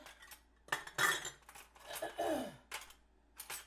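Metal measuring spoon scooping baking soda from a jar for zucchini bread, several close clinks and scrapes in short bursts, no speech.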